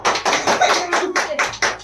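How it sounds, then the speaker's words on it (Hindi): Family members clap their hands in welcome at a Raksha Bandhan gathering at home, close and loud, with several uneven bursts of clapping that come in quick clusters and short pauses. "तो जोरदार तालियों से स्वागत हो जाए।"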